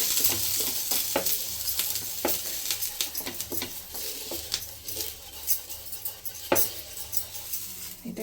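An onion is rubbed across a hot dosa tawa, giving a soft continuous sizzle punctuated by repeated scraping strokes in an irregular rhythm, fairly quiet and close.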